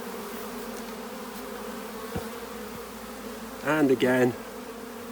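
Honeybees being put into a wooden hive, a steady close buzz throughout with a brief louder burst of individual bees near the microphone, and a short spoken phrase over it.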